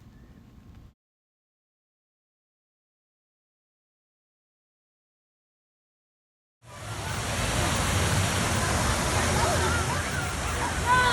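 Water from a street fountain waterfall on Michigan Avenue in Chicago splashes in a steady, loud rush after a brief bit of sound and several seconds of silence.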